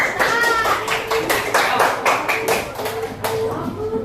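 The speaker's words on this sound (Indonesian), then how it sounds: "Udah, tepuk tangan." Several rounds of hand clapping in quick, uneven bursts in a classroom, with young children's voices calling out between and over the claps.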